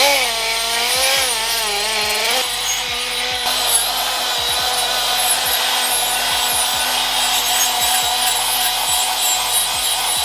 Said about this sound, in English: you're just going to run over the mating surface so that it's nice and smooth again